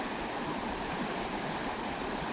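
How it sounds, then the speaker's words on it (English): A Wyoming river rushes past in a dense, steady roar of churning water, close and unbroken with no voices. "That water is rushing."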